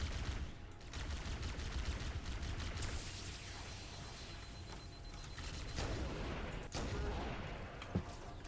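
Dense gunfire and booming shots in the video game Halo: MCC, a loud continuous barrage of rapid rifle fire with scattered blasts, close and sustained throughout.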